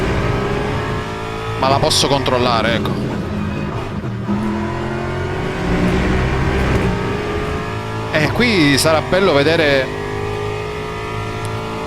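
An LMGT3 race car in a racing video game, its engine revving and climbing in pitch with brief bursts of louder acceleration, heard beneath someone talking almost continuously.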